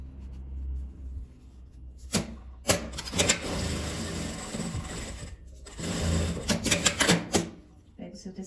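Sewing machine stitching fabric scraps into a small holder, whirring in several runs of a few seconds each with brief stops and fabric handling between, close and moderately loud.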